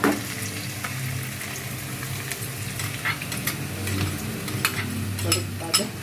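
Garlic and onion frying in hot oil for a Filipino-style spaghetti, with a steady close sizzle and light stirring clinks and scrapes running throughout, no talking.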